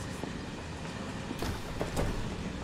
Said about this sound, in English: Why the hell are you on a train?